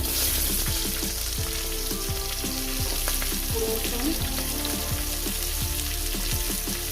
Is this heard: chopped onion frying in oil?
yes